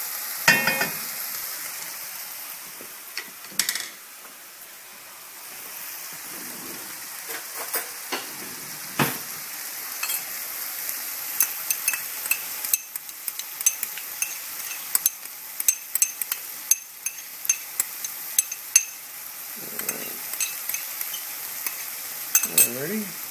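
Onions and minced fresh garlic sizzle loudly in a pan over high heat, with frequent scrapes and clinks from a utensil stirring them, close and continuous over the whole stretch.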